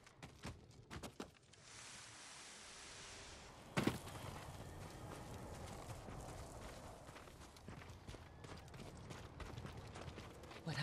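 Horses' hooves pound in a rapid clip-clop gallop in the video game Ghost of Tsushima, over a dense, busy background, with a sharp thud near the start.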